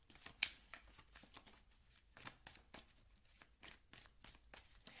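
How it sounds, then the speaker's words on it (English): Tarot cards are shuffled by hand close by, a quiet run of soft riffling flicks and slaps in an irregular rhythm, with no talk over it. "let's shuffle in some cards and see what else comes out"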